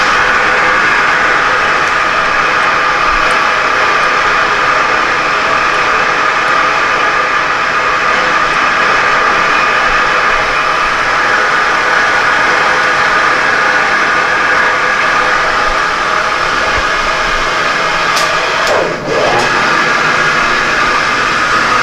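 Machine spindle turning at about 120 to 130 RPM while drilling and tapping holes in a mini pallet, a loud, steady, continuous droning hum with little change throughout and a brief dip near the end.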